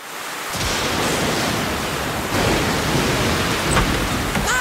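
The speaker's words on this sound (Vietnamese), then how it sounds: "trời mưa không dứt" Rain falls without a break in a cartoon, a dense, even hiss that starts after a short silence and holds steady and loud throughout.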